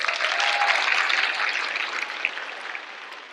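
Big round of applause from a graduation ceremony audience of parents and family for the graduates, a dense steady wash of clapping that fades slightly toward the end.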